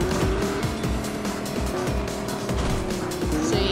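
A fancy vehicle in Fortnite drives on with a steady engine drone, rattling bumps and occasional tire squeal, loud and continuous throughout.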